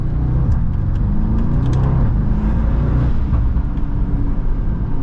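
A Mercedes Kugel S600 with over 600 horsepower cruises along, its engine a steady low rumble and whir heard from inside the car, with a few faint clicks and no talking.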